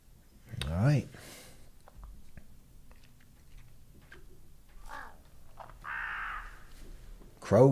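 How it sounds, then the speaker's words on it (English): Crows caw in an anime episode, a few clear calls rising now and then above a quiet background while people talk. "Crows."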